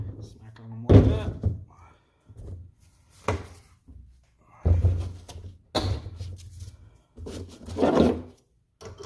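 Tool smacking the valves of an LS engine during a teardown, producing a series of sharp metallic thunks in an uneven rhythm, with someone talking between and over the hits.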